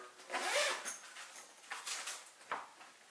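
A zipper on the mesh compartment of an American Tourister Tribute DLX carry-on suitcase is pulled in a few quick, close rasping strokes, with a sharper tug near the end.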